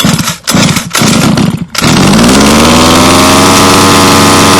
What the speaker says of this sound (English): We're going to pull the pull start just a couple times until we hear it fire.